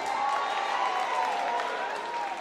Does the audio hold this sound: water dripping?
no